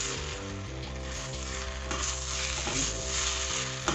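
Continuous sizzling and scraping of nham fried rice being stir-fried dry in a pan, steady hiss with occasional stirring clatter, under a humming background tone.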